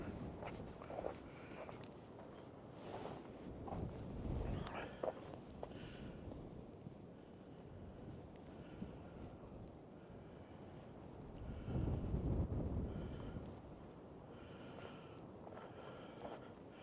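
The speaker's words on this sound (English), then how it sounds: "As you can hear the wind, it is cranking." Strong outdoor wind on a firewood lot with spruce and birch stands, a low rushing roar that swells in gusts and buffets the microphone, with scattered faint knocks and rustles.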